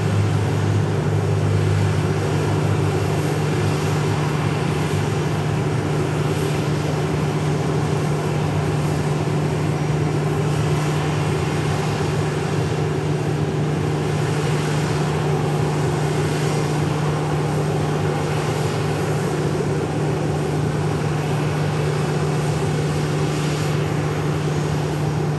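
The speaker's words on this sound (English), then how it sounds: "Check out that PC-12 departing." A Pilatus PC-12 turboprop departs Dallas Love Field, its engine a steady, loud drone with a low hum that holds throughout, with no voices.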